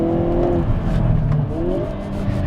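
A Hyundai Kona N launches hard under launch control, its engine note climbing steadily in pitch as it pulls, loud and close for a couple of seconds with no talking.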